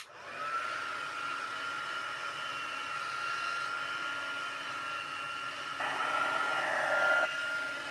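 Heat tool blasting air over freshly stamped craft ink ahead of heat embossing, a steady close roaring whoosh that runs unbroken throughout and grows slightly louder near the end.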